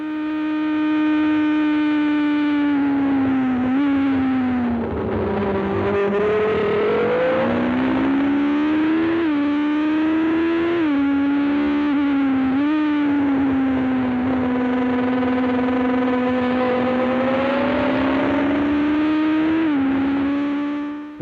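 Ligier Formula 1 race car engine heard onboard at Brands Hatch, a loud, continuous high-revving scream that rises and falls with each gear change and corner for the whole stretch, with no talking.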